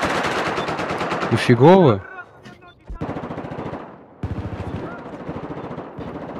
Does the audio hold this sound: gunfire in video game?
yes